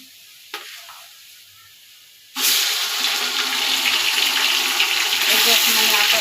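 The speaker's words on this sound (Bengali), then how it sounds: "এখন আমি আদা রসুনের বাটাটা দিয়ে দিলাম" Ginger-garlic paste hits hot oil in a pan of fried onions while biryani-style cooking is underway, bursting into a loud, steady sizzle after a quiet start with a faint clink.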